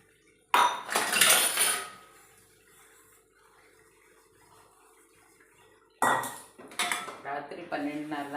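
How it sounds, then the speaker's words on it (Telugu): Dishes being washed in a kitchen sink: pots and utensils clatter and clink in a loud burst, go quiet for a few seconds, then clank again with running water close by. "అందుకని గిన్నెలు కడిగేసుకుంటున్నాను."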